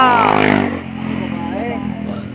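Motorcycle engine revving during an endurance ride, a loud close burst of throttle that rises and then settles into a steady running note, with a faint horn beeping in the background.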